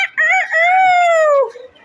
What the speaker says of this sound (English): Crow like a rooster.